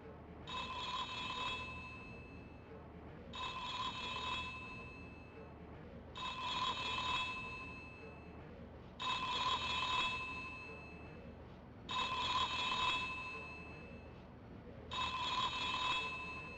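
A telephone ringing in The X-Files PlayStation game, six evenly spaced electronic rings about three seconds apart, each bright and trilling, heard alone over a faint room hum.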